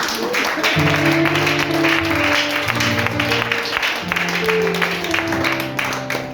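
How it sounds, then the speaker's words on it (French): Church congregation in Bingerville applauding and cheering in acclamation, a dense steady roar of clapping and voices with sustained tones from music underneath throughout. "Acclamons le Seigneur."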